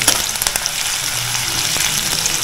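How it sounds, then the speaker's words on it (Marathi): Chopped onion sautés in hot oil for sukkat, a steady close sizzle and crackle with faint stirring taps, alone with no talk. "आपण कांदा परतवून घेतोय तेलावर"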